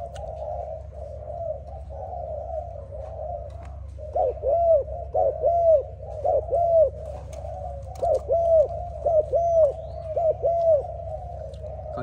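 A Malaysian cuckoo dove, a young captive bird, coos in repeated bursts of rolling, bubbling calls, clear and close over a steady low background hum.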